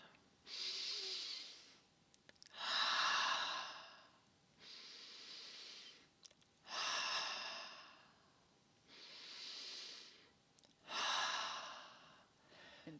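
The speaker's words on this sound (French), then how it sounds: "j'inspire par le nez et j'expire par la bouche" Slow, deliberate breathing during an energy exercise routine: five or six cycles of drawing air in through the nose and exhaling audibly through the mouth, each breath lasting a second or two with short pauses between, close and quiet, with no talking.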